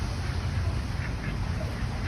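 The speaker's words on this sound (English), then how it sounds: "All the ducks are coming up on the path" Ducks quack in a low, steady murmur against a constant outdoor rumble, several birds calling at once from a short distance.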